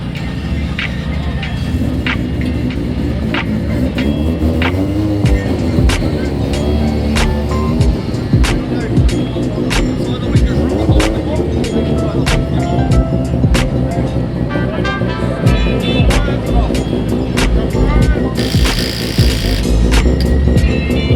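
Nissan R35 GT-R drift car doing victory burnouts after winning the 2019 D1NZ Drifting Championship: a loud, sustained engine roar with revving swells and sharp crackles from the exhaust runs throughout.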